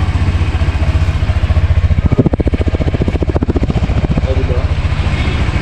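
Honda Click 125 scooter engine, a 2025 model, revving nearby with a rapid pulsing exhaust throb that rises briefly and settles back to a fast idle, with a voice speaking over it.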